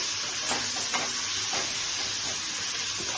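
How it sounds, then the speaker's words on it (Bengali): Ginger-garlic paste with torn green chillies sizzles and fries steadily in a pan, a continuous close hiss with a few soft stirring scrapes and no talk. "মশলাটাকে ভেজে নিচ্ছি।"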